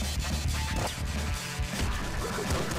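Explosions in the roguelike shooter Nuclear Throne give dense, punchy blasts and crunchy impacts that tumble quickly together, loud and continuous for a few seconds with no speech.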